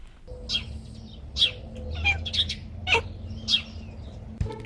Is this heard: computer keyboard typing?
no